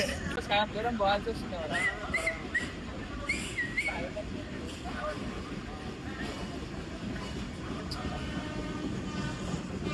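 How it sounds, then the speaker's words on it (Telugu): A train pulls into a railway station platform with a steady, loud rolling rumble and a few whistle-like tones, while several people talk nearby throughout. "గాయస్ ట్రైన్ వచ్చింది"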